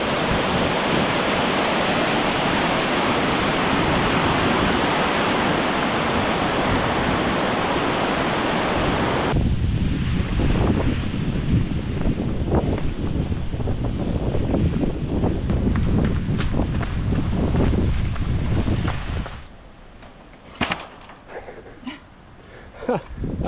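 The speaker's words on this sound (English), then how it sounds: "There's Sour Milk Gill in full flow." Sour Milk Gill, a mountain stream near Base Brown in full winter flow, a loud continuous roar of rushing water close by, fading somewhat and broken by wind and handling noise near the end.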